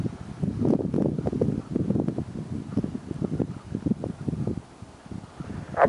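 Wind buffets a paraglider in flight, a steady low rumbling roar with gusty surges and dips throughout, close and loud against the microphone, and no voices present.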